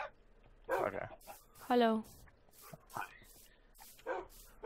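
Dogs barking in a Minecraft UHC match: a couple of short, tonal barks stand out amid people talking over a quiet game background.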